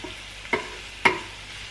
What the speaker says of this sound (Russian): И это дело мы поджариваем буквально полминуты.